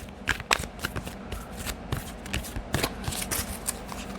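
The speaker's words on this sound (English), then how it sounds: "Give it a good shuffle." Playing cards being shuffled, a series of quick riffling bursts and soft slaps, close and clear with no talking.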